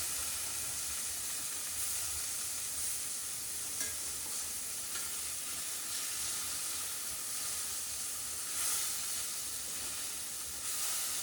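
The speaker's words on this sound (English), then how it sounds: "So just allowing it to sear, making sure we added just enough butter or that ghee is perfect." Fish sears in a pan with butter or ghee, a constant close sizzle and hiss of frying fat, steady throughout with slight swells and no voices.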